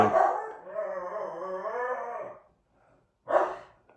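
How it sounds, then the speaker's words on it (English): A female dog at home gives a long, wavering howl-like bark for about two seconds, close and fairly loud, then pauses briefly before one more short, sharp bark. "my dog barking. She might have seen a cat or something."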